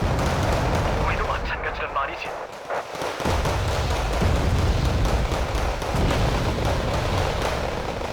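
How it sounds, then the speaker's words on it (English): Heavy, continuous rumble of explosions from anti-tank guided missiles striking a landing zone with transport ships in the war strategy game Wargame: Red Dragon, loud and dense throughout with a brief lull, a voice talking over the barrage. "Enemy ATGMs are firing at our landing zone"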